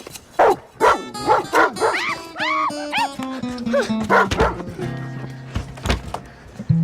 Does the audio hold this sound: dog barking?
yes